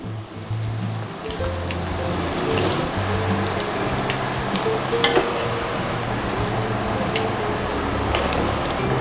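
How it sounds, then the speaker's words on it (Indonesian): Anchovies frying in oil over medium heat, giving a steady crackling sizzle with scattered sharp ticks and pops throughout, accompanied by a low tonal hum in the background. "Kita goreng dengan api sedang sampai matang, tapi jangan sampai garing ya."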